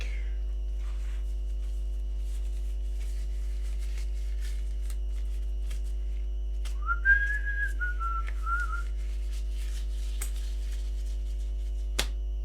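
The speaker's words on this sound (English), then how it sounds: "I just whistle things these days." A person whistles a short, wavering melodic tune alone for a couple of seconds amid a steady low mains hum, with faint handling clicks and a sharp snap near the end.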